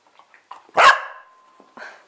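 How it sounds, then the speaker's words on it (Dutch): A Cardigan Welsh Corgi lets out one loud, sharp bark near the listener, with a few faint yips and snuffles before it and a softer bark trailing after. "Niet zo blaffen."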